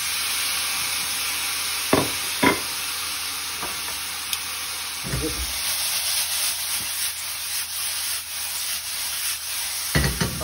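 Meat sizzles in a pan with cooked-down mushrooms, onions and gherkins, a continuous loud frying hiss with occasional scraping stirs and clatters, close up and without talk.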